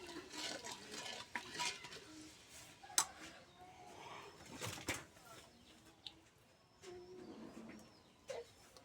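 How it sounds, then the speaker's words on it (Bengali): A spoon stirs sugar to dissolve it for a soaked pitha sweet, clinking and scraping softly against a pot at a quiet outdoor spot, with faint bird calls in the background. "এখন সুন্দর করে চিনিটা গুলে নেব।"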